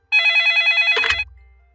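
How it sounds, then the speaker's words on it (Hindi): A cartoon telephone rings in a rapid, warbling electronic trill that lasts about a second, loud and alone, then cuts off abruptly with a brief clunk. "मैं उसकी मम्मी को फोन करती हूँ।"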